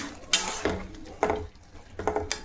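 Spoon stirring shukto, a Bengali mixed-vegetable curry, in a pot: a few scraping, clinking strokes spaced irregularly, close and moderately loud, with no voices.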